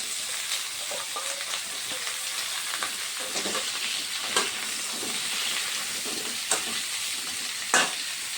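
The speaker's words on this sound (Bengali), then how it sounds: "কড়াইয়ের মধ্যে যে তেলটা ছিল ওই তেলটা দিয়ে ভেজে নিচ্ছি।" Pointed gourd, raw banana and potato fry in oil in a wok, a continuous hissing sizzle with occasional clinks and scrapes of stirring, close and fairly loud, with no one speaking.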